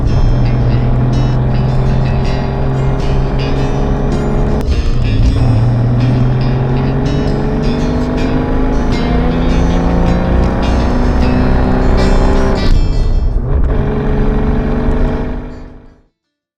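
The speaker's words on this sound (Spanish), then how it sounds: "El Slant Six es un motor muy tranquilo" Dodge 3700GT coupé with a 165-horsepower Slant Six engine driving, its loud, smooth hum rising steadily in pitch through the gears with brief dips at shifts, fading out at the end.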